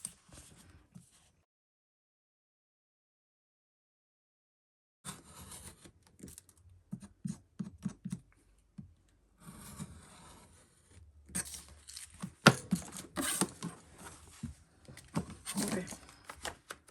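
Scissors trim the excess paper from a journaling pack after a silent opening, producing close, irregular snips, scrapes and paper rustles that grow busier toward the end.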